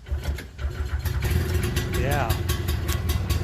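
An engine with the choke pulled cranks and catches, then settles into a steady mid-pitched idle. A voice speaks briefly over it.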